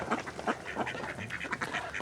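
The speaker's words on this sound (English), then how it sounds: "The other thing about Indian runner ducks is they're incredibly loud." Loud, repeated quacking of Indian runner ducks in a steady rush of overlapping calls, close by and continuing throughout with no pauses.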